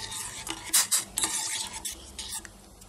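Masala tea made with black cumin (karunjeeragam) is stirred in a pot, a spoon scraping and clinking against the metal in quick, irregular strokes close by, with faint bubbling underneath.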